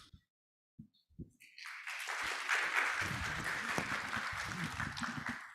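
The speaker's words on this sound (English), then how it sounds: "Let's give another big round of applause." Audience applause at Crypto Expo Asia 2022, starting after a few brief claps and a short quiet moment, then swelling into sustained clapping from a crowd that continues to the end.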